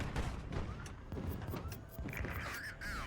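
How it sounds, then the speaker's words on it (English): Dense crackling bursts of 100mm artillery fire in the naval combat game HighFleet, rapid overlapping blasts and impacts over a low rumble, with faint tonal game effects rising toward the end. "Our 100mm artillery."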